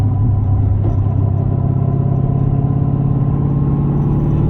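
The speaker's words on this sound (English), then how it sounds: "it's definitely more gear whine for sure" Low steady drone inside a twin-turbo Dodge Hellcat fitted with a dog box transmission, a constant rumble of engine and road noise with a faint whine from the gearbox running underneath, unbroken throughout.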